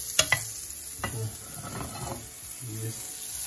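Butter melting and sizzling in a hot frying pan before pancake batter goes in, a soft steady crackle close by with a few sharp taps and stirring scrapes near the start.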